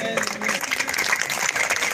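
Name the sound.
audience clapping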